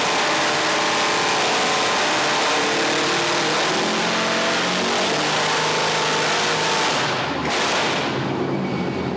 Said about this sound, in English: So the engine's backfiring and doing all sorts of weird stuff.